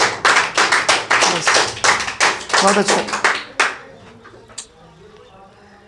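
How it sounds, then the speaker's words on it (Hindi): Classroom students clapping for a classmate at a coaching centre, several seconds of loud, rhythmic group clapping that breaks into scattered claps and fades out, with a teacher's brief voice near the end. "रुकैया के लिए ताली मारिए, बहुत अच्छा बोलिए"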